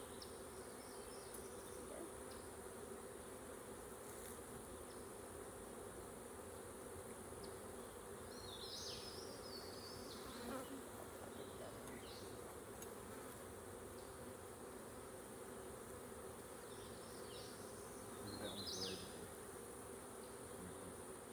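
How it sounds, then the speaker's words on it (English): Many honeybees hum around a backyard hive in a faint, steady drone, with occasional individual buzzes passing close by. "Lots of bees."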